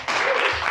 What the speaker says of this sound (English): Make a round of applause